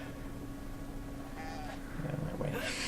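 Sheep bleats come in short bursts near the end, quiet and set against a low background hum with faint noise.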